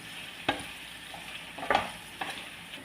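Chilli chicken stirred in a hot pan, with a low, steady sizzle and three distinct scraping strokes of a spoon at irregular intervals, close and moderately loud.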